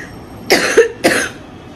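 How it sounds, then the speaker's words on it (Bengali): Two close, distinct coughs from someone with a cough and cold, a quick double cough followed by a single cough, heard alone in a quiet room. "কফ অ্যান্ড কোল্ড থেকে কাশি হয়ে গিয়েছে।"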